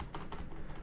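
Keys on a computer keyboard clatter in a short burst of quick, close taps, typing text into a field while working in Unreal Engine 5, with no voices.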